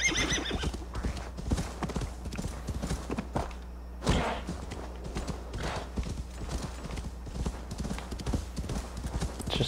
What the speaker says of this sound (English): Horse calling has gotten better and better in games.